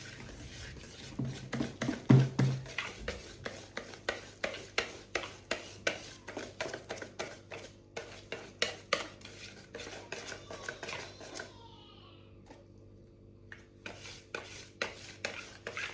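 A whisk or spoon beats flour into corn dog batter in a bowl, rapid rhythmic clinks and wet scraping strokes close up, pausing briefly before resuming at a steady pace.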